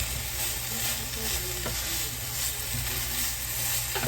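Food sizzles and fries steadily in a hot pan while being cooked for a work lunch, a continuous close crackle with occasional stirring, and no one speaks.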